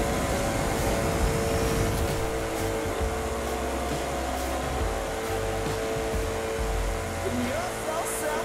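A Koenigsegg Regera accelerating in the racing game The Crew 2, with a continuous engine whine and rumble at steady volume and the engine pitch holding fairly level across the stretch.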